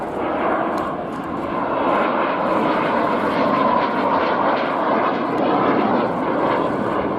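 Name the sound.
jet-powered Strike Master aircraft flying at air display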